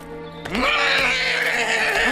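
A horse gives one loud whinny in a castle stable scene, a sustained wavering neigh that starts suddenly and carries on close by.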